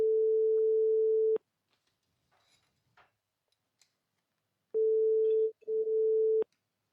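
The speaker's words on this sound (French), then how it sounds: "Déjà, ça sonne. Vous entendez sonner?" A telephone ringback tone on an outgoing call, a steady low hum lasting about a second and a half, then a pause, then a second ring split by a brief break. It sounds clear and alone with no talking.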